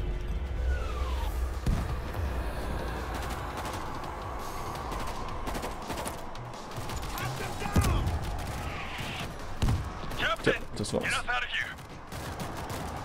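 Gunfire in the cooperative zombie shooter World War Z, Tokyo level, with bursts and single shots at mid distance over a busy game soundscape, while players talk throughout.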